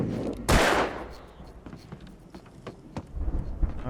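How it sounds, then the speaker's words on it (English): A gunshot and an exploding barrel in Alan Wake Remastered on Nightmare difficulty. One loud close burst rings out and fades, then lighter sharp pops and clatter follow. "That's absolutely an exploding barrel."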